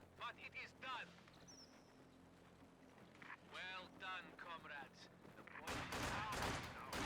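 Rifle fire crackles in Company of Heroes 2 as a Volksgrenadier squad looses a short volley, sharp bursts of gunfire mixed with in-game noise while someone talks over the action.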